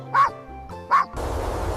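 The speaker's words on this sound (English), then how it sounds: "I barked up at it with my most serious and professional barking voice." Two short, sharp puppy barks ring out close and loud with a pause between them, then a stretch of broadband rustle follows, as if on a mountain facing off with a squirrel.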